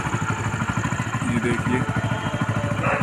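A motorcycle engine idles steadily and loudly close by at a school education board building in Bhiwani, Haryana, on Diwali, with someone talking over the continuous throbbing rumble throughout.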